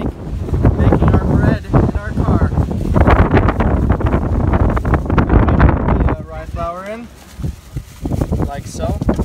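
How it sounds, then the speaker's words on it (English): Gusty wind buffets the microphone in loud rumbling bursts while a person talks over it outdoors, measuring flour for a bread maker. "It's a little windy."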